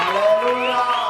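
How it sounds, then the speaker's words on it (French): A church congregation at a celebration service cheers and acclaims together, a sustained crowd roar of voices with whoops rising over it, loud and continuous throughout the short burst. "On acclame très fort la parole."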